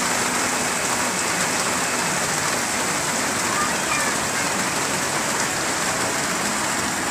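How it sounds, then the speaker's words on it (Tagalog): Heavy rain pours down steadily, a dense, loud hiss that holds unbroken and even from start to finish with no other sound standing out. "Lakas po ang ulan dito ngayon."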